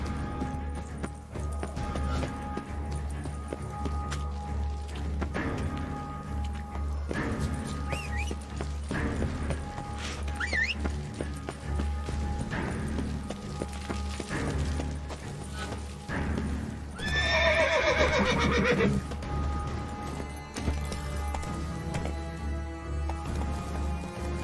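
Roach the horse from the Witcher 3 video game, moving along under game music and ambient sound, with a brief clear neigh standing out near the end of the stretch.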